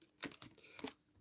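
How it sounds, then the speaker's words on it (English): A deck of tarot cards is shuffled quietly, giving a few soft, papery riffling bursts close by with short gaps between them. "So let's just shuffle, see what we get."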